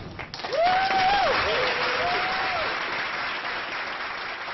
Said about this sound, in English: that applause went on for like 30 seconds